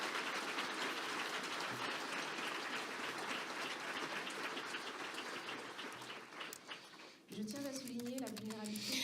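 At a human rights film festival event, an audience gives sustained, dense applause for about seven seconds, then the clapping fades and a voice begins speaking.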